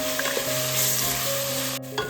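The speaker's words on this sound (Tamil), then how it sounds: "தக்காளியை நல்லா வதக்கி எடுத்துக்கலாம்." About 200 grams of tomatoes sauté in a pan for prawn biryani, giving a loud, continuous close-up sizzle with a low steady hum underneath and a brief stirring clatter near the end, with no voices.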